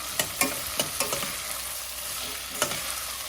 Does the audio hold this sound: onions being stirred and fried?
yes